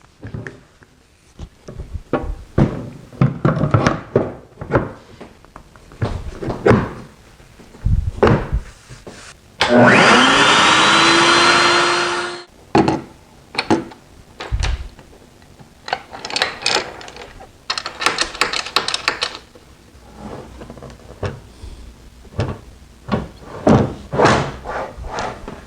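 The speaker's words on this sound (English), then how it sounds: "I'm going to screw this shelf down with just a couple screws to hold it in" Shelf on a shop-built router table being fastened with a couple of screws, heard as a long steady drill whine in the middle with scattered wooden knocks, clunks and handling noises around it in a workshop.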